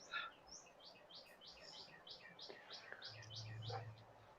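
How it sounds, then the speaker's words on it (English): Birds chirp outdoors in a quick series of short, high tweets, faint and somewhat distant, over a quiet background with a low hum near the end. "I heard like a chirping."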